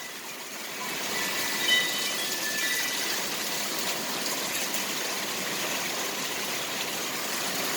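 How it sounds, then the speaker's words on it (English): Heavy midnight thunderstorm rain pouring out of house gutters, a dense continuous gushing roar of water, steady and close throughout. "Look at the way the gutters are like just pouring out."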